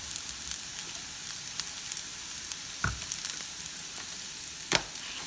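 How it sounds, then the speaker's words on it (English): Vegetables sizzle quietly in a hot pan, giving a steady soft hiss with a couple of sharper crackles or stirs, heard alone and faint. "I want my vegetables to cook just a little bit."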